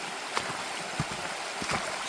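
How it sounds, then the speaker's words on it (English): A river flows steadily beside a winter hunting crossing point, a broad continuous rush of water with occasional splashes and knocks close by, and no voices. "Just got to cross the river first."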